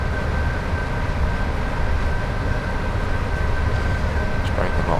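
A Class 86 electric locomotive hauling Mk2 coaches over Shap on the West Coast Main Line in Train Sim World 6, giving a steady close rumble and whine, with a thin constant tone on top.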